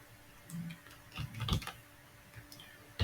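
Quiet clicking keystrokes on a computer keyboard while writing a SQL query, in a few irregular bursts with pauses between, close and soft, no talking.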